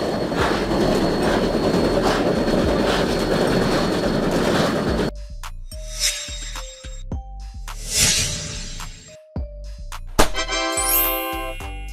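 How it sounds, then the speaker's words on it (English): Snowplow train on railway tracks, starting with a steady rumbling roar for about five seconds, then breaking into distinct clacks of wheels over rail joints, squealing wheel tones and metallic rattles near the end. "A train equipped with a snowplow to clear snow from railway tracks"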